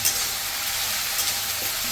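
Spice paste for a village-style katla fish kalia frying in a pan, a steady bright sizzle with soft scraping stirs throughout, close and fairly loud with no talk.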